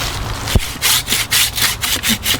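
Manual hand saw cutting through a tree limb while reforming a tree outdoors: a rhythmic series of about six or seven rasping wooden strokes, close and fairly loud, with a brief knock at the start.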